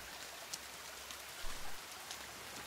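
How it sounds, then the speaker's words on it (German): Rain falling in the survival video game The Forest, a soft, steady broadband hiss of rainfall with faint scattered drops and a low rumble swelling briefly midway, no one speaking. "Endlich regnet es mal wieder."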